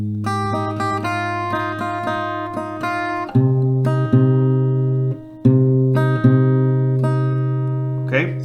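Acoustic guitar playing a melody: plucked single notes ring over a sustained low tone, with clear string attacks and a few stronger strums, close and loud, without talking.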